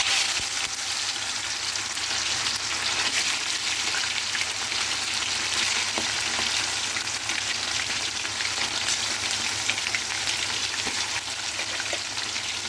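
Chicken pieces frying in hot oil with cumin seeds, a dense, loud, continuous crackling sizzle like heavy rain, holding even throughout with no voices.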